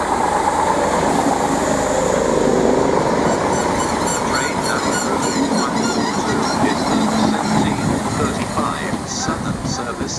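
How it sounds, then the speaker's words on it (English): A train passes through Chichester railway station on the London Victoria to Portsmouth Harbour service, giving a continuous close rumble with metallic clatter and faint high squeals from the wheels. "This train is the service from London Victoria."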